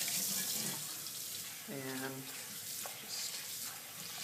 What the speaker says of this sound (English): And then what I do is turn the water back on.